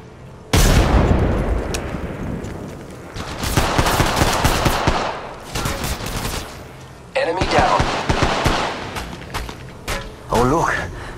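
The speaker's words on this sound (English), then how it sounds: "Opening fire on the enemy." Rapid automatic gunfire from the video game Apex Legends Mobile, loud repeated bursts with pauses and reloads, mixed with in-game voice callouts.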